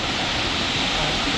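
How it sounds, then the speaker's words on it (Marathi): Sautada waterfall by the Rameshwar temple pours into a pool below, a dense, steady roar of falling water filling the whole short stretch. "या धबधब्यातनं मस्त पाणी पडतंय खाली आणि इथं हे कुंड तयार झालेले आहे"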